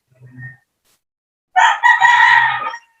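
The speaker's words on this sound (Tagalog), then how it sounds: "O, yung manok yung sumagot." A rooster crows once, loud and close, after a short soft cluck, with silence otherwise.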